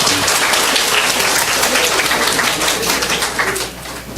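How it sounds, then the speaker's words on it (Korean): A church congregation at a worship service applauds a children's choir, loud sustained clapping from many hands that fills the room and tapers slightly toward the end. "아동부 친구들에게 격려의 박수 한번 힘차게 부탁드리겠습니다"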